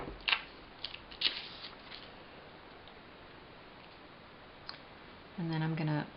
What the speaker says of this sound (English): So I'm just going to cut out my little